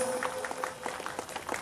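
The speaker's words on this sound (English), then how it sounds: "Please clap your hands." An audience claps together at a school's first annual day celebration at Maruganj Public School, a brief, fairly soft patter of scattered handclaps that stays steady throughout.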